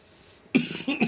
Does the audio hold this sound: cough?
yes